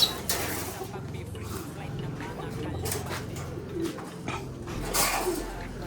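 Pigeons coo in short soft bursts near and far, under a person talking.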